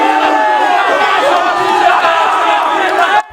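Fans at a Centennial Patriots school sports game cheering and yelling together, a loud sustained roar of many voices that cuts off abruptly near the end.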